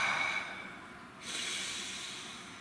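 One deep breath, a long airy inhale then a soft hissing exhale, close and quiet, with no talking.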